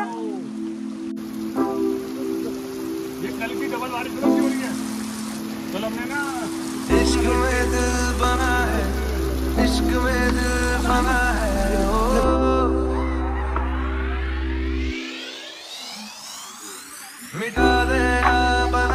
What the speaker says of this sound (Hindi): मौसम के अंदर इतनी बारिश हो रही है